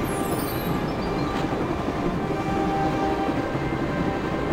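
A train running on rails in the Broken Sword video game, a loud continuous rumble of wheels with faint squealing and clatter, steady throughout without speech.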